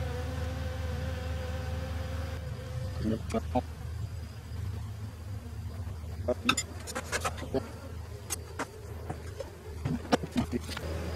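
Honeybees from a small swarm buzz steadily at the hive entrance as foragers return with pollen, a close, continuous hum with occasional louder passes and light clicks, alongside someone speaking.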